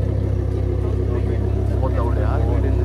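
A Lamborghini engine roars loudly up close, a deep, steady rumble that stays constant throughout while someone talks over it.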